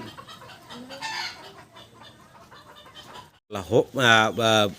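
Soft background voices and faint sounds at a bird market, then loud hen clucks and squawks burst out near the end, close and repeated in quick succession.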